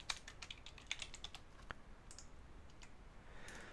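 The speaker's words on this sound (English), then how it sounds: "I'm going to type price." Keys tapped on a computer keyboard, a quick burst of close clicks early on that thins to scattered taps, quiet and alone without talk.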